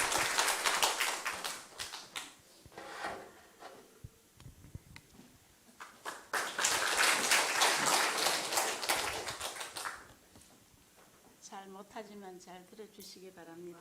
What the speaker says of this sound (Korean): 큰 박수로 우리가 격려하면서 맞이하겠습니다.